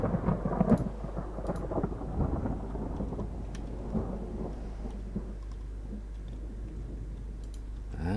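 Thunder rumbles through a stormy day in a naval warfare video game set in a 1956 Norwegian campaign, with steady rain hiss and scattered clicks; the loud rolling peak comes early, then a continuous rainy wash.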